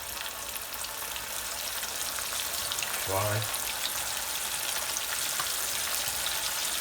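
Halloumi chips frying in hot oil: a constant, broad crackling sizzle throughout, with a brief low voiced sound partway through as a number is spoken.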